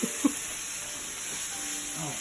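Meat sautéing in a pan, a steady, fairly faint sizzling hiss with a couple of small clicks near the start and light clatter later.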